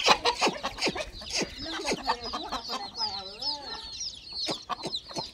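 Village hens on a grandmother's farm cluck in repeated short bursts, close and lively, with some longer warbling calls mixed in and occasional voices nearby.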